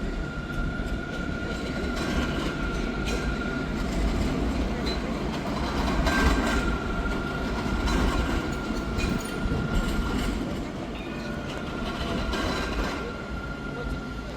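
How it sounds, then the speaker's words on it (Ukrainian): A tram in Rabat, Morocco, rumbles steadily past up close, a constant low roar of rail and wheels with a faint high tonal whine, without pause. "Ще один трамвай."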